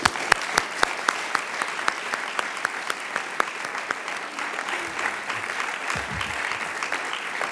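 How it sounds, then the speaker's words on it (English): An audience claps steadily in a room at an event recognizing Vladimir Kara-Murza and prisoners of the Kremlin. The sustained applause runs for about seven seconds, with a few sharp, close claps standing out from the wash of hands. "the next round of applause should be for everybody in the room and all the work that we did together"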